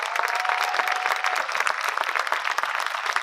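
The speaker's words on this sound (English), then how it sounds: "could I please invite you to give our performance one final well-deserved round of applause" Audience at a school arts festival's final performance giving a lively round of applause, with crisp, rapid claps in a steady dense burst throughout.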